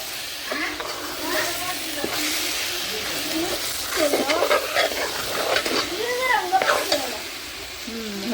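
Biryani being stirred and mixed in a pot, with a steady sizzling, frying hiss and intermittent scraping and stirring strokes at close range, plus faint background voices.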